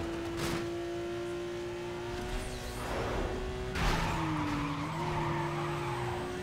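A car in Need for Speed Most Wanted accelerates hard and slides through a curve, its engine whining at a steady pitch that dips and recovers as the tires skid loudly, with no talk over it.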